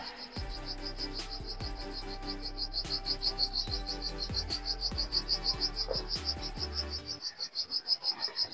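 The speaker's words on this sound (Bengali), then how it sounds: "গাছ থেকে পোকার আওয়াজ আসছে।" Insects call from trees near a waterfall in Meghalaya, a dense, steady high-pitched trill repeating in rapid pulses, with intermittent low knocking sounds underneath and a faint wash of background ambience.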